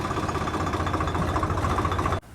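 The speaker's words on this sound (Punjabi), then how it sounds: "ਆਪਾਂ ਟਰੈਕਟਰ ਲਾ ਲਈਏ ਸਾਈਡ ਤੇ" A tractor engine idles nearby with a steady, pulsing chug that stops abruptly just before the end.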